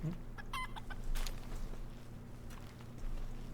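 Chicken pal clucking at a base in the video game Palworld, a few short clucks near the start over a steady low hum, with faint footsteps-like taps.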